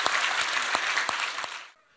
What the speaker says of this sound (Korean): 우리 박수로 축복합니다